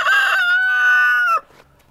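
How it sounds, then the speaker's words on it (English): Farm hens vocalizing near at hand, one loud sustained drawn-out call lasting over a second before cutting off into quiet, no talking. "Those two hens, they're gonna be our dependable ones for eggs."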